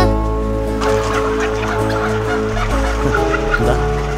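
A flock of native country chickens clucks and calls over a loud, steady drone of music, several birds overlapping in a busy, close chatter.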